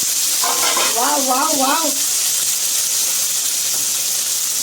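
Eggplant and tomato tipped into a hot pan set off a loud, steady sizzle and hiss that fills the whole stretch, with a brief exclaiming voice over it early on.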